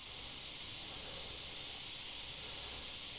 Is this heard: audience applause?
no